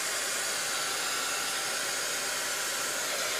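A hair dryer blows steadily on a mixed media shabby chic craft tag to dry the paint, a loud continuous close-up whoosh with no talk over it.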